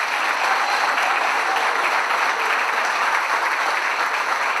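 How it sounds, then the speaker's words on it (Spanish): A hall full of people at a political-education congress in Posadas applauds a provincial deputy and teacher, a dense, loud, even wash of clapping sustained without break. "Fuertes los aplausos para la diputada provincial y profesora Silvia Araceli Rojas."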